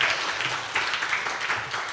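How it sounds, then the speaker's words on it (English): Audience applause for keynote speakers at a marine technology conference, a moderately loud round of clapping heard from within the hall, steady with slight swells. "please give another round of applause for our keynote speakers"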